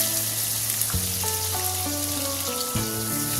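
Chopped onion sautéing in hot oil for dhaba-style dum aloo gives a steady, dense sizzle throughout. Background music with stepping melodic tones plays over it, and no one speaks.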